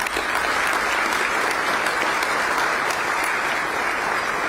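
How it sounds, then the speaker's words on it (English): A dense, sustained round of applause from an audience at a county State of the County address, loud and even throughout with no break. "Let's give our students today, I know they've left, a round of applause for their participation in today's events."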